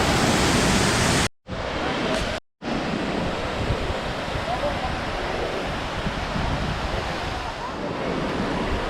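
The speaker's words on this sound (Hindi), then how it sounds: "ऊपर से पानी है वो नीचे की तरफ आ रहा है। आप झरने देख सकते हैं, बहुत ही खूबसूरत झरने हैं" Waterfalls along the mountain trek to Kedarnath in Uttarakhand, water crashing down from above as a loud, steady broadband roar close by, with two brief dropouts early on.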